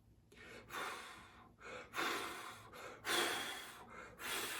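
Heavy, forceful breathing close up, a series of loud rough inhales and exhales in an uneven rhythm, with no talking.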